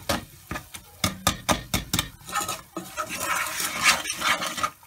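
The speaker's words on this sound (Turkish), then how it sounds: "Bunları bir güzel kavuruyoruz" Sugar toasting in a pan for a banana tiramisu, with a run of sharp, close scraping and knocking strokes that settle into a steadier, busier rasp of a utensil working against the pan.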